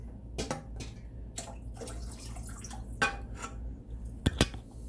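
Water poured into a hot pan while cooking Italian sausage with tortellini and vegetables, a close, fairly faint liquid hiss broken by a few sharp clinks of pan and utensil.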